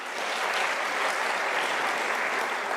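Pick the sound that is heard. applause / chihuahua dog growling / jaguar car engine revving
applause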